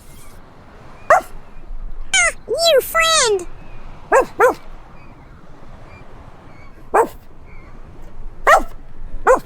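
Several sharp dog barks and yips ring out on a New York City street, spaced irregularly across the stretch, with people talking between and around them.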